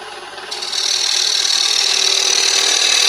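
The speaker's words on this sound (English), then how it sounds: "I think I'll move on to a smaller gouge, just so I can get in to do the tenon better." A small gouge cuts a tenon on a wooden bowl turning on a lathe, giving a steady, loud, hissing scrape that swells after half a second and holds without pause.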